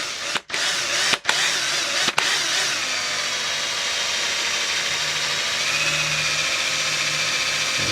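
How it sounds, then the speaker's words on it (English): A cheap electric drill bores into the plastic grip of a GHK G5 airsoft pistol. After a few brief stops and restarts, it settles into a loud, steady, close motor whine with no speech. "And we're just drilling into the grip."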